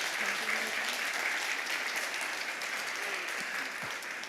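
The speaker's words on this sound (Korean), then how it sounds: "여러분 축복의 박수 해주시기 바랍니다" Steady, even applause from a congregation at a Korean church Sunday service, dense and constant throughout, with no break and no clear voices above it.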